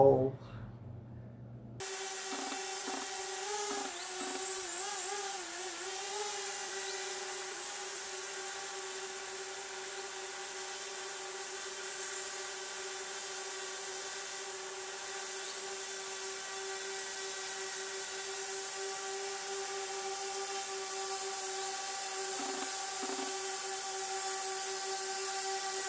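A DJI Spark drone flies steadily, its high, whining propeller buzz near and continuous throughout, with slight pitch wavers early on and no talking over it.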